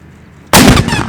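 A Civil War cannon, fired by a gun crew at Gettysburg, lets off one sudden, very loud boom after a brief quiet lead-in, with the blast rumbling and echoing briefly afterward.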